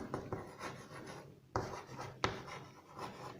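Continuous scratchy scraping of writing on a board during a physics lesson, with short strokes and a couple of sharper taps, close and fairly quiet with no talking.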